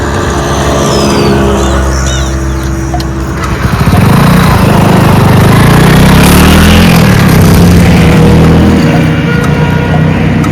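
A motorcycle engine runs close and loud with a buzzing, rattling drone, then revs up and sustains a higher, rougher pitch from about four seconds on.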